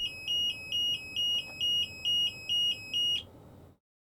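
A Heil DuraPack Python automated side-loader garbage truck's control alarm beeps loudly in a steady, rapid series of about eight evenly spaced tones, then cuts off, with low engine rumble underneath.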